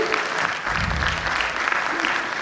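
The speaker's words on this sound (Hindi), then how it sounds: "प्लीज जोरदार तालियों के साथ उनका स्वागत करें।" Audience applause welcoming a speaker to the stage at an AIMLTA event, a dense steady clapping from a crowd filling the whole moment, with a low voice murmuring faintly underneath.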